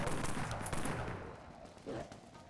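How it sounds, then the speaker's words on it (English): Full-auto fire from an AR-9 Silvertide in Dead Frontier, a fairly quiet rattling burst with the trigger held down, some shots blurred together, followed by a short, lower thump near the end. "This is what it's like to hold the trigger down."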